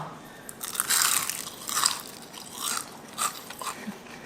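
Crisp crunching bites into whole battered fried shrimp, several crackly bursts with chewing in between, close to the mic.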